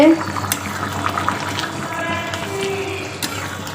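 Dried fish (shutki) simmers in a pot, giving a steady low bubbling and hiss with a few clinks, heard close up and continuous.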